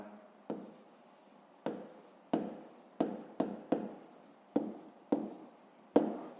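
Handwriting in pen on paper for a fifth-grade maths problem makes close, quiet scratching strokes with sharp starts, around nine separate marks in an uneven rhythm and no voice.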